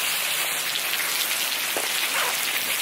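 Heavy rain pours down outdoors during a San Diego flood, a dense, constant hiss of drops hitting surfaces, loud and unbroken throughout with no voices.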